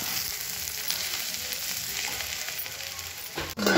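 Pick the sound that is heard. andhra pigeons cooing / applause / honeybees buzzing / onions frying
onions frying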